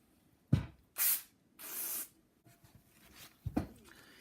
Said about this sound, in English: Some more brake cleaner.